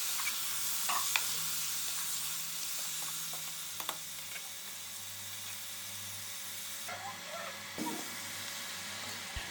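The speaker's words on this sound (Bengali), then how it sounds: "এখানে আমি তরমুজের খোসাগুলো দিয়ে ভালোভাবে নেড়ে তার সাথে অন্যান্য কিছু সবজিও অ্যাড করব।" Watermelon rinds are stirred and fried in a pan, giving a quiet, steady sizzle with occasional soft scrapes and clicks from the stirring.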